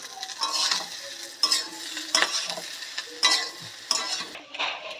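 A spoon stirs spicy semolina with fried vegetables in a pan, making rhythmic bursts of scraping and light sizzling about once a second, close and fairly loud, with no voices.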